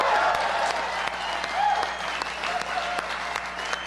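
Studio audience applauding at a celebrity poker tournament table, a steady dense wash of clapping throughout with a voice faintly under it.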